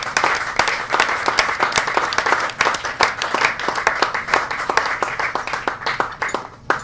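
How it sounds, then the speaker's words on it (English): Audience applause at the Hitchens Prize award ceremony: dense, continuous clapping from a crowd, loud and even with crisp individual claps standing out, tapering slightly at the close. "Please hold your applause till the end."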